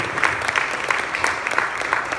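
A live show crowd gives a short burst of applause, with even, continuous clapping from many hands and no pause.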